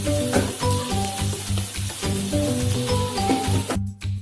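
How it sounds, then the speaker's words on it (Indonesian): Blended spice paste frying in hot oil for Indonesian opor and lodeh, sizzling loudly and close with steady crackling and some stirring clatter, no voices. "dimasukin minyak untuk lebih mengeluarkan lagi aroma dari bumbu-bumbu yang sudah di blender itu"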